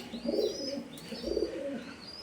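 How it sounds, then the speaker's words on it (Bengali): Pigeon cooing up close, heard as two soft, throaty rolling coos about a second apart, with no voices and light faint chirps in the background. "অনেক ডাকাটাকি করে কবুতরটা"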